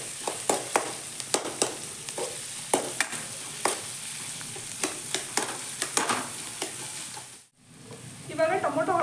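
Onions sizzling in a hot pan with steady frying hiss and frequent sharp stirring scrapes, a brief dropout near the end before the sizzle returns louder; a faint voice is present.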